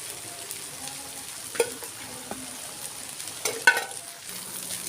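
Street-style rava dosa frying in oil on a cart griddle, a soft, steady sizzle with a few scattered scrapes and clinks of a spatula, fairly quiet throughout.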